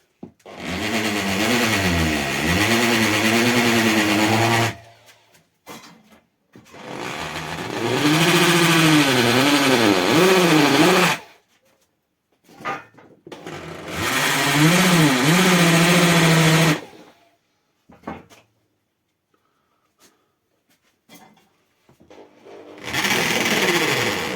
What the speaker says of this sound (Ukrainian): За допомогою дрельки таку от насадочку я взяв по бетону, включаємо режим молоток і пробуємо це все робити